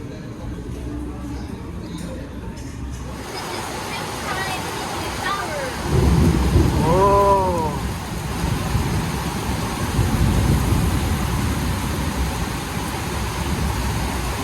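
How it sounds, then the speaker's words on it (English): A rainy-season storm in the province: steady heavy rain hisses throughout and swells louder midway, with low rumbling underneath and a brief voice speaking over it. "Welcome to the rainy season."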